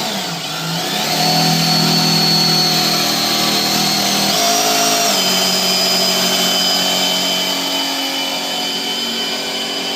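A power drill bores holes for a bracket on a Fox Body Mustang or Camaro during track prep, a loud sustained motor whine that shifts pitch midway as the bit bites, running continuously with no talk.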